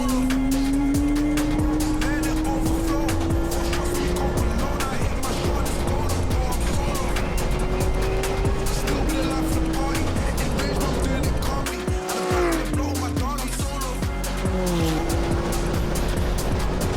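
A McLaren Artura Trophy Evo race car laps Road Atlanta: a loud engine note climbs and shifts through gears, with tire squeal and brief drops on braking, heard close from on board.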